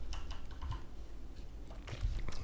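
Soft, quick keystrokes come from a computer keyboard as a search term is typed, faint and close with light background hiss.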